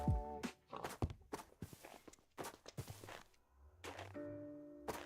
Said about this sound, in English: Why do I hear so many footsteps over here?